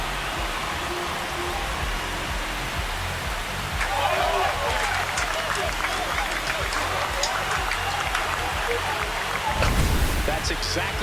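Simulated stadium crowd in an MLB video game, Texas Rangers against Los Angeles Dodgers, as a steady roar of cheering and clapping that swells louder partway through and peaks near the end, with commentary voices over it.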